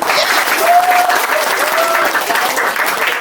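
Close, loud clapping from a group, steady and dense throughout, with a few brief voices faintly audible beneath the applause.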